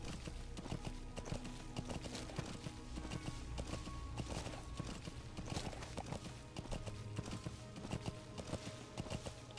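Saddled horse galloping in Metal Gear Solid V: The Phantom Pain, a steady rapid clip-clop of hooves over a continuous game soundscape, fairly close and sustained throughout.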